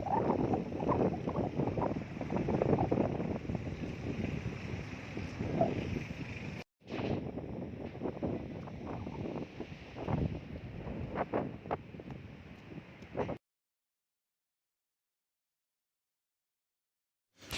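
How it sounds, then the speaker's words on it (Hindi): A strong wind blows in the Naran and Kaghan mountain region, a close, rough roar of gusts battering the microphone for about thirteen seconds before the sound drops to near silence. "बहुत तेज़ हवा चल रही है। आपको आवाज़ आ रही होगी वीडियो में।"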